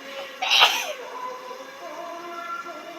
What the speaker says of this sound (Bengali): এত ফ্লেভার বেরিয়েছে হাঁচি কাশি সব হচ্ছে